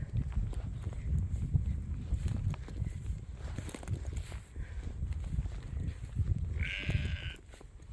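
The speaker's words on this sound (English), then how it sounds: "The sheep inside." Sheep bleating at a hillfort camp in the Ingram Valley, Northumberland, with soft irregular calls and light shuffling over steady outdoor wind and ambience, one clearer bleat standing out near the end.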